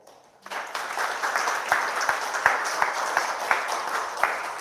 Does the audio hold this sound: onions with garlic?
no